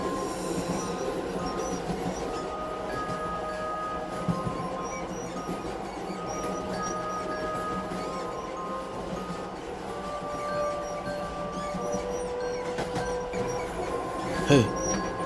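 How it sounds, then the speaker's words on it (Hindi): A train starts to move, a steady rolling rumble with thin squealing tones from wheels on rails, a sharp squeal near the end, and a voice speaking faintly underneath. "ट्रेन चलने लगती है।"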